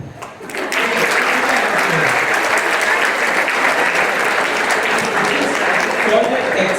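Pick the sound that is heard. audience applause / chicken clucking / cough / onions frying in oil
audience applause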